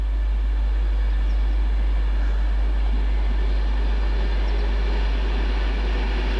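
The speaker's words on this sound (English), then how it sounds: "Any moment now, the next train through, 1H14 off London Euston," Train 1H14 from London Euston to Manchester Piccadilly running through Stone station: a steady, loud, broad roar with a deep low rumble, unchanging throughout and with no voices.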